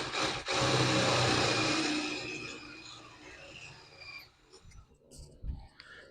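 A leaf blower pushes air into a drum smoker under construction, a loud, steady, close roar for about four seconds that then cuts off, leaving scattered quieter knocks and rattles.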